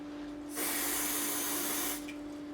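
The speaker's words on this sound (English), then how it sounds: "super glue accelerator. I'm just going to spray" Super glue accelerator is sprayed from an aerosol can in a single continuous hiss of about one and a half seconds, close and loud, over a steady background hum, while repairing a vintage EY50-CS electro-acoustic guitar.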